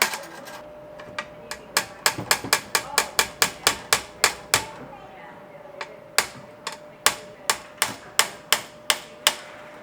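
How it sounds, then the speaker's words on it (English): Sharp metallic hammer blows in quick irregular bursts, flattening thin aluminum at close range, with short pauses between runs. "let's see if my hammering did the job"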